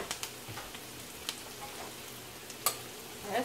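Turkey added to a hot frying pan sets off a soft, steady sizzle with a few light taps and clicks of a utensil, fairly faint and close.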